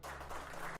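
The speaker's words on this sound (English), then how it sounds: "You do hear some clapping Uh, from somewhere far away." Distant applause from a play in a tabletop roleplaying game, a soft, dense patter of many hands that fades out after under a second.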